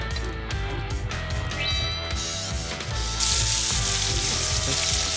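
Baby lamb chops sizzle in olive oil in a hot pan in a TV studio kitchen, a loud continuous frying hiss that swells sharply partway through as the meat is added, with no talk.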